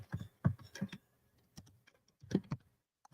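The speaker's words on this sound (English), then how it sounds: "I am typing something real quickly here." Quick bursts of typing on a computer keyboard, close clusters of sharp key clicks separated by short pauses, with no talking.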